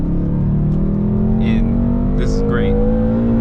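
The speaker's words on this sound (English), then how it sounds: "I'm driving a BMW M5, a 570 horsepower car." Steady low engine drone inside a 570-horsepower BMW M5 while driving, loud and constant, with someone talking over it.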